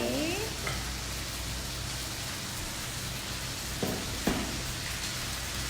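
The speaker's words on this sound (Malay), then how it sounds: "Minyak dah panas, kita akan tumis yang kita blend tadi." Blended curry paste for a prawn green curry sautéed in hot oil, giving a steady loud sizzle and crackle throughout, with a few brief scrapes of stirring.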